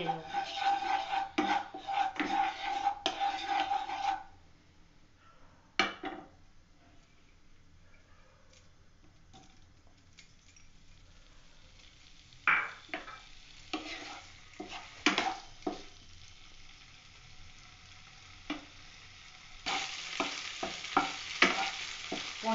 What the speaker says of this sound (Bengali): আমি প্রথমে রেশের তেল দিলাম, দিয়ে পুনিগুলো একটু